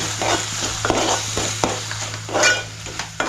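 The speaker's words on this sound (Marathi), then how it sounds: "गरम लागलं ना आता चांगलं परतवायचं" Masala paste being sautéed in hot oil, a close sizzle broken by repeated scraping and stirring strokes of a spoon against the pan, with occasional metallic clinks.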